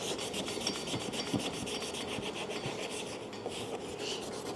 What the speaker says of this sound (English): This is a maroon scuff pad, and this will help you get into those tight areas to scuff them up